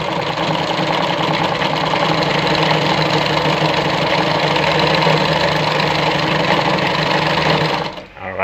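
A Jones Brother model 687 sewing machine runs steadily while stitching a buttonhole, a continuous close, loud mechanical whir with rapid rhythmic needle clatter, stopping abruptly near the end.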